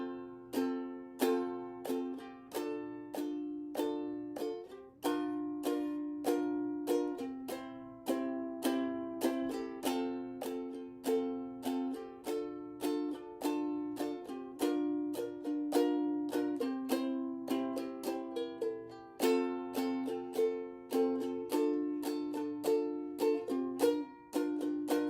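A ukulele strums a 1-6-4-5 chord progression in F, with bright, evenly repeated strokes in a steady rhythm whose chord changes recur over about 25 seconds, played alone with no voices.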